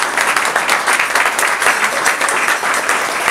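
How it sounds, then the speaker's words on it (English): A large audience at a real estate luncheon applauds continuously, a thick, even wash of clapping that holds steady without pause. "And I think he deserves a big round of applause."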